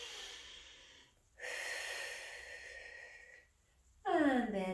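Deep, audible breaths during a slow stretching exercise for back ache and stiff shoulders, long airy inhales and exhales close to the mic, ending with a voice starting to speak.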